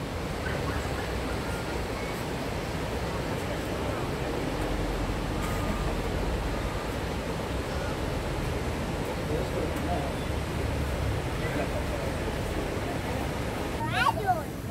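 Continuous broadband rushing of a river flowing through a natural park area, steady and fairly close, with faint background voices of people nearby.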